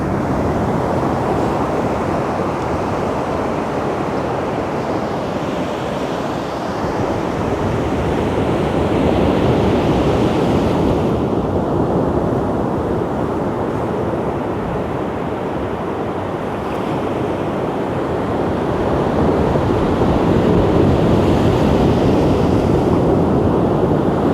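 Sea waves wash in with rising tide water at night on a shore, a steady, loud broadband surf roar with gusting wind buffeting the microphone throughout, no voices.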